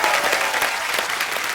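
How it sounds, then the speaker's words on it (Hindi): Studio audience applause on a Hindi comedy talk show set, a dense, steady wash of clapping that holds loud and even throughout with no speech over it. "अजय यार, अरे सर के लिए और काजल मैम के लिए जोरदार तालियां।"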